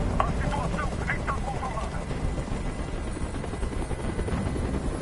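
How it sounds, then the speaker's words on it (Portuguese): Helicopter in the video game Detroit: Become Human, a steady whirring rotor drone that holds throughout at a constant level, with a person's voice briefly heard over it near the start. "Esse helicóptero tem que sair daqui agora!"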